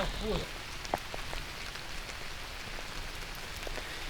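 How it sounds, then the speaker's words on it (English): Steady rain falls on an outdoor disc golf course, a dense, close hiss of drops with a few sharper taps, and a brief sound rings out near the start. "you can really see and hear the rain picking up here"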